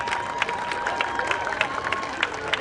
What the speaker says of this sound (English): let's give one more big round of applause to our runners-up this evening